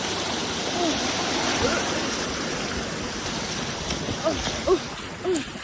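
Water rushes and roars continuously, like a waterfall close by, with a few brief voices rising above it.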